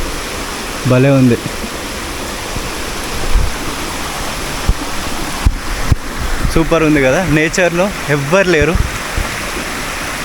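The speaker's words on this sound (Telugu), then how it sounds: "బట్ కొండ పైనుంచి వస్తుంది వాటర్." A forest waterfall pouring down from a hilltop with moderate November flow makes a steady, close rushing roar, while people chat over it.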